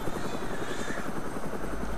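A helicopter in the video game DayZ drones steadily with a fast, even rotor chop and engine hum, close and constant, with no talk over it.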